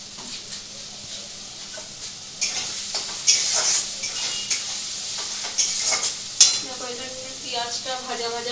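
Onions frying in a hot pan with a bright, continuous sizzle, punctuated by louder bursts as they are stirred and tossed, close and prominent with no talk.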